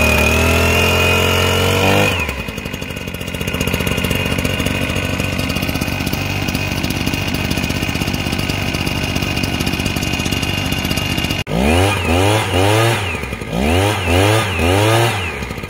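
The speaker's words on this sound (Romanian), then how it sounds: "Acum acționăm demarorul până la pornire." A gasoline engine on an Elephant 3WF-3S mist blower sprayer is cranked with its starter, revs briefly, then runs loud and steady for several seconds before a series of rising and falling revs near the end.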